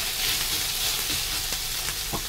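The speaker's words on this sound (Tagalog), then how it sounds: "Parang di naman yata naluluto yung aking ampalaya." Bitter melon (ampalaya) with egg frying in a pan, a steady close hiss of sizzling oil with a few small pops and stirring scrapes, no talking.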